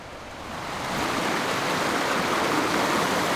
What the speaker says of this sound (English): Here's the little river